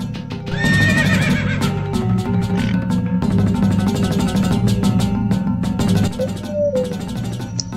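A horse whinnies in an animated farmer story, with rising and falling neighs over continuous background music, loud and near throughout.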